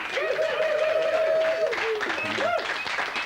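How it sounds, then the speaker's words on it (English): A stand-up comedy studio audience applauds a comedian's mind-reading rabbit act with a steady wash of clapping and crowd noise, while someone talks loudly over it throughout. "So would you give her a big round of applause?"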